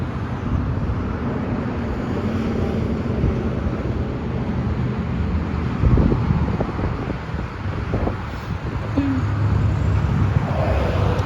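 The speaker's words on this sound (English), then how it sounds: "I love this wind breeze." Wind blows outdoors, producing a steady, fairly loud low rush and buffeting across the microphone, with faint traffic-like rumble underneath and occasional small knocks.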